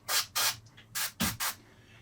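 Five short bursts of an aerosol spray can, close and hissing, dusting paint lightly onto the back side of a miniature sword, with brief pauses between each puff.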